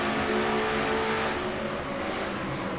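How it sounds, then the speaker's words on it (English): A Chevrolet Camaro stock car in a racing video game roars at a steady, loud drone from an onboard view, holding high revs with no talk over it. "On board Chris Dollarton's car."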